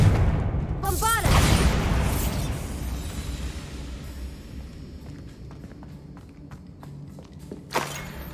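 A Bombarda spell explodes in the Hogwarts Legacy video game with a loud, sudden burst followed by a long rumbling decay, then footsteps and small game noises, and a brief thump near the end.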